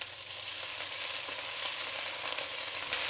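Soy sauce stir-fried in a hot pan for Chinese-style gobi manchurian with capsicum, giving a steady, close hiss of sizzling and frying that holds for the whole stretch with slight swells.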